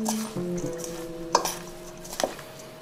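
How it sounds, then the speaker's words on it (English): Tabouleh being tossed with olive oil in a bowl, a soft wet squish of stirring with a few sharp clinks of utensil against the bowl, close and fairly quiet. "Mix the whole lot together."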